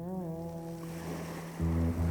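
Ocean waves wash onto a beach as a storybook sound effect for a narrated Gulliver's Travels, a steady hiss of surf under a sustained musical drone that swells louder near the end.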